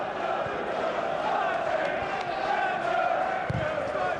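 A football stadium crowd roars steadily at a 2001–02 Champions League match between Anderlecht and Real Madrid as the home side presses. The noise is loud and dense, and a commentator talks over it.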